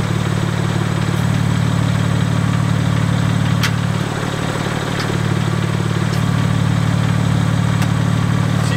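A 2021 BMW M4 Competition idles in Sport Plus mode, its deep, steady engine rumble loud and close throughout with a brief dip in the middle and a few faint clicks on top.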